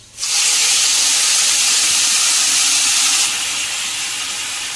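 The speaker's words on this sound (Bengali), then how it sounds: "আলুগুলো ভাজা হয়ে গেছে, এবার আমি মশলাটা দিয়ে দিচ্ছি।" Spice paste hits hot oil and fried potatoes in a pan and erupts into a loud, bright sizzle that holds steady for several seconds before easing slightly, close and with no talking.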